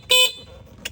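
A short horn blast from an FX 400cc Predator UTV, a bright tonal beep lasting about a fifth of a second, followed by quiet idle noise and a faint click near the end.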